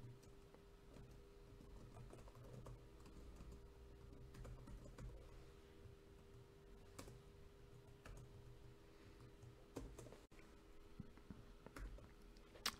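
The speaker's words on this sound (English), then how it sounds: "we type in our first line of JavaScript code" Computer keyboard being typed on while entering JavaScript code: faint, irregular key clicks under a low steady hum, quiet and close with no talking.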